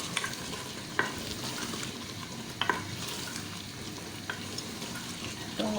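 Potatoes frying in a masala for aloo phali sabzi, a soft steady sizzle with occasional scraping stirs and clinks of a spoon against the pan, fairly quiet and with no talking.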